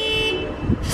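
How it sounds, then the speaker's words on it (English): A car alarm sounds on a parked car outdoors during a stormy evening, a loud steady electronic tone running through the whole short moment. "And now they set the alarm off on Abby's car."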